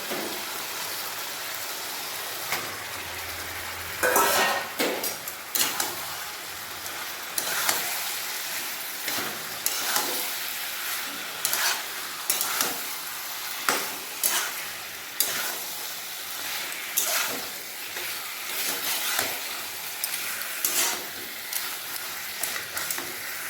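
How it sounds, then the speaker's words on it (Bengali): Goat head meat frying in a pan with a sautéed spice paste in a home kitchen, giving a steady sizzle broken by repeated scraping and stirring clatters of the utensil, close and moderately loud with no talking. "এই দেখুন মশলাটা ভালোভাবে কষানো হয়ে গেছে এরপরেতে মাংসটা দিয়ে দেবো"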